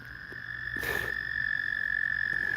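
A steady, piercing frog trill from an abandoned coliseum in Oklahoma drones on throughout, fairly close and loud, briefly crossed by a short rustling burst.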